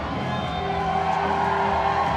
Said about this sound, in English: Listen to that ovation from the Great Hall crowd